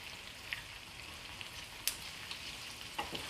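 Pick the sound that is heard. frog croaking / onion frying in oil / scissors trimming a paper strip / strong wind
onion frying in oil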